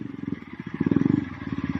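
A KTM 390 motorcycle riding a slippery trail, its engine giving a close, pulsing throb that rises and falls in rapid beats across the whole stretch, with no talk over it.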